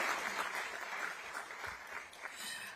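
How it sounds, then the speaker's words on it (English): Steady crowd applause for a speaker at a State of the District event with Mayor Bowser, dense and sustained with no talk over it. "Give a big round of applause to Chico Horton."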